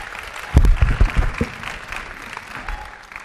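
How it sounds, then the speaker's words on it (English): Audience applause for Jim Burke swells into a dense burst of clapping with some low thumps and crowd noise, then thins to a lighter patter. "Let's give Jim Burke a round of applause."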